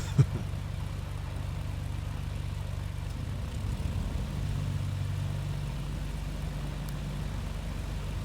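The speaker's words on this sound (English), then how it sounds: "Alrighty, engine started." A light twin-engine BN2 aircraft engine running in Microsoft Flight Simulator 2020, a steady low idling drone with a brief click at the start, even and moderately quiet throughout, no talk.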